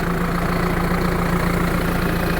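A new tractor engine starts gently and idles steadily at close range in a field, a smooth continuous rumble with an even low hum and no voices.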